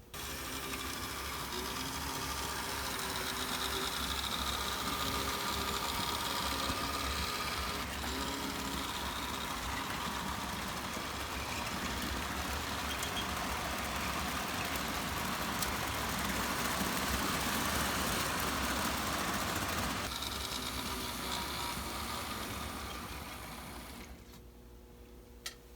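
An ALCO FA model train locomotive hauls a long post-war freight set around the track, giving a steady whirring mechanical drone with rail clatter that holds for most of the stretch before cutting off near the end.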